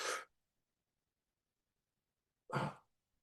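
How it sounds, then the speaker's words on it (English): Two breathy intakes of air for a 4-7-8 breathing exercise, each short and close, separated by about two seconds of silence. "So you inhale for 4 seconds"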